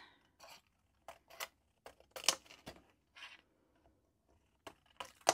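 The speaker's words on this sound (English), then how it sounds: "Let me grab the scissors again. I'm going just to cut it out." Scissors snip through paper to cut out a single English paper piecing shape at a quilting table: a run of short, crisp cuts and crinkles in irregular bursts, close and moderately loud, with no talk.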